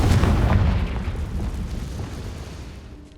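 Confringo fire spell explosion in Hogwarts Legacy, a loud booming blast up front that rumbles and gradually fades over a few seconds.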